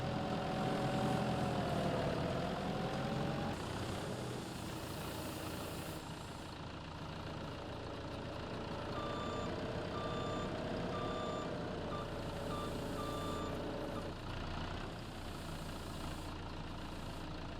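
Skid steer loader engine idling and moving on a farm, a steady mid-low rumble throughout with intermittent reversing beeps in the middle, fairly close and loud, no talk.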